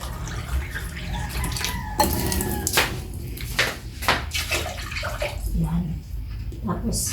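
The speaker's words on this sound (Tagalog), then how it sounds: "magdadagdag lang po akong tubig dun sa, para hindi po matuyuan" Water poured into a steamer pot on a home stove while cooking puto maya, a rushing splashy pour with bursts and pauses, heard close under a person talking.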